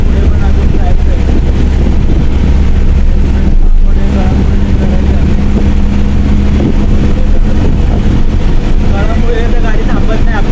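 A Swami Travels bus engine drones loud and close from inside the moving bus, a steady low hum with road rumble running through the whole stretch while people talk in the background.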